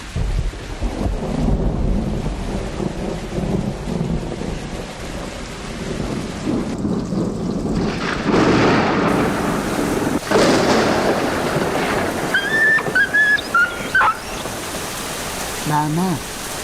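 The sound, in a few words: thunder rumbling with rain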